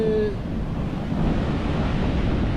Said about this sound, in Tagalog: Lakas ng alon mga kaibigan, ano?